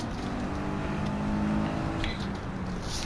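Gran Turismo race car on slick tyres, its engine droning steadily with short throttle blips and revs rising and falling, close and fairly loud with no talk.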